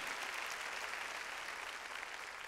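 Church congregation claps loudly during a Sunday service, a dense uniform burst of applause lasting a couple of seconds.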